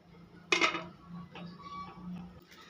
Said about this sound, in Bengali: এবারে আমি ঢাকা দিয়ে আরও কিছুক্ষণ রান্না করে নেব।